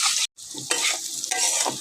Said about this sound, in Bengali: নুন হলুদ দিয়ে আলুটাকে ভালো করে ভেজে নেব